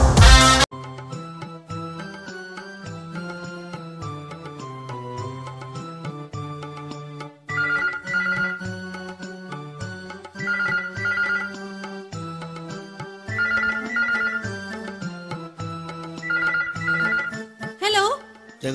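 A telephone rings with a melodic electronic ringtone during a Malayalam comedy stage sketch, its tune recurring in short bursts every few seconds over background music.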